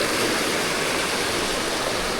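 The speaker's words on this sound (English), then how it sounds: "The river coming down there" A river rushing through a small nook near a campsite in France, a steady, close broadband wash of flowing water that fills the whole stretch without pause.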